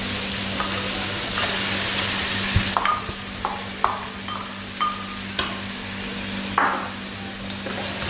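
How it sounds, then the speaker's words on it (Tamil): Ginger garlic paste sizzles steadily in a hot pan, with a constant frying hiss broken by intermittent scrapes and taps of a spoon stirring against the metal, close and clear with no talking. "போட்டு நல்லா வாடை போகிறது வரை நல்லா வதக்குவோம்."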